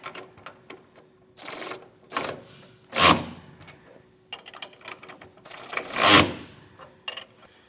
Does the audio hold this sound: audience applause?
no